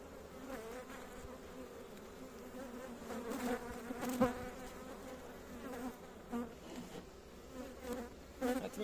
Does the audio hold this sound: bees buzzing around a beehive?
yes